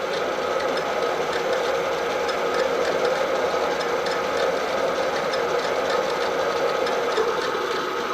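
A drill runs steadily while boring a pilot hole for an axle adaptation, a continuous mid-pitched whirring hum at even loudness throughout, close by with no talk.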